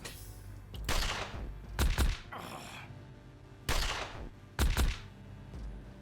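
Dart gun shots in Sword of the Stars: The Pit, four sharp bursts in two pairs spaced a few seconds apart, fairly close and clear with little else around them.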